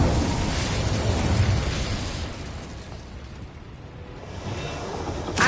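A fire spell erupts in the Hogwarts Legacy video game as a loud, rushing whoosh of flame and blast, swelling then easing, with a fresh burst rising at the end.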